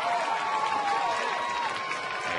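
Fans and family at a baseball game in Atlanta cheering and applauding a hit, a steady distant crowd roar with a whistle-like tone on top.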